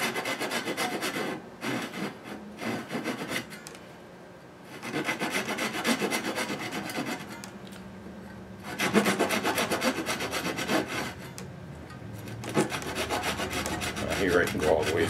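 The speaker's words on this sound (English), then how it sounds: "I'll come around the other side to deepen that slot so that it's deep enough to receive the tang of the fret" Fret slot in a solid rosewood guitar neck being deepened by hand, giving steady rasping, rubbing strokes of a file or saw on wood in bursts with brief pauses, close and fairly loud, no talk.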